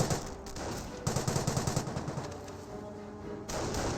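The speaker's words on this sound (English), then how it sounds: "And the tank trap will get gunned down." Automatic gunfire from Company of Heroes 1 units shredding a tank trap: rapid machine-gun bursts that start loud and close, then thin out before a fresh volley, with no talking.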